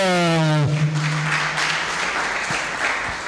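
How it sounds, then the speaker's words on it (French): A church congregation breaks into sustained, loud applause and acclamation after a held sung note, the clapping filling the room steadily before slowly thinning. "Pour Jésus, on acclame le Seigneur."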